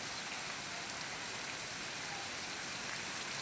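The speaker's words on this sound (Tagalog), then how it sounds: "Dilig tayo ng ating mga talong." A steady, dense hiss of water spraying from a hose while eggplants are watered, continuous and even throughout, close by with no pauses.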